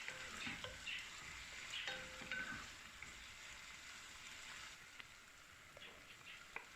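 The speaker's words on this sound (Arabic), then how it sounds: "أقلبه مع الدجاج علشان يتشرب الدجاج نكهة البصل" Chicken and onions fry softly in a pot while a spoon stirs them, giving a faint, steady sizzle with a few light scrapes and taps, and no voices.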